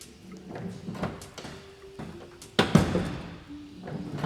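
Faulty van sliding doors clunking and thudding as they are opened, with a series of uneven knocks and scrapes, one sharper bang midway, fairly close with no talk.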